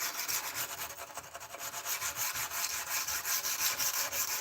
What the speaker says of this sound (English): doing boring hand sanding for a while